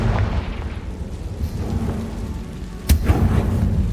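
In the video game Hogwarts Legacy, the Confringo explosion spell lands as a single sharp, booming blast partway through, over a low rumbling background drone.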